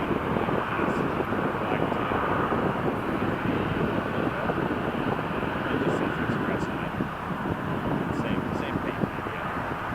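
A passenger airplane takes off from runway 05 at Toronto Pearson, its broad steady engine roar holding loud and continuous with some wind noise throughout.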